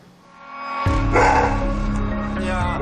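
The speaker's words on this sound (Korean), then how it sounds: "밖에 있는 손님을 향해 그렇게 짖던 녀석이" A bookstore dog barks at customers, a loud close run of rapid, excited barks and yips starting abruptly after a short quiet lead-in, with a voice faintly under them.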